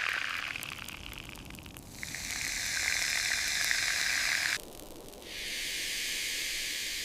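Meat sizzling while cooking outdoors during a blizzard in Iceland near the Blue Lagoon, a loud bright frying hiss that swells and drops in waves, pausing briefly before resuming steadily.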